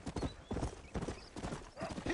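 Horse hooves clip-clop in Red Dead Redemption, a steady rhythmic trotting of repeated close, sharp hoof strikes throughout.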